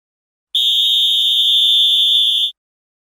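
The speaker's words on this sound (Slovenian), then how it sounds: "Ste slišali pisk." A single high-pitched electronic beep, loud and steady, lasting about two seconds in otherwise silent surroundings.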